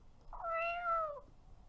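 A single cat meow from the Roblox video game, clear and close, rising and then trailing off over about a second against a quiet background.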